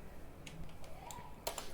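Keys tapped on a computer keyboard while entering text into Notepad, a few quiet scattered clicks with a short cluster near the end, faint under a low room hum.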